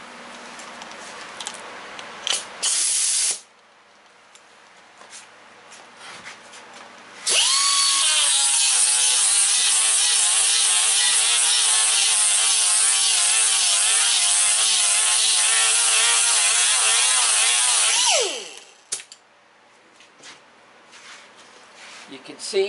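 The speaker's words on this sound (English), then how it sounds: "now we'll hit it with 36 grit" A power sander with 36 grit abrasive grinds down a metal weld in one steady, loud run of about eleven seconds, preceded by a shorter burst and quieter handling noise, and it winds down audibly at the end.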